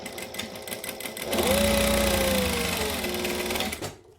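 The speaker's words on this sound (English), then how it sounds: "stitch that straight edge with a normal joining stitch" A sewing machine stitching a straight joining seam on fabric pouch pieces starts up and runs in a steady, close whirring burst for about two and a half seconds before winding down to a stop.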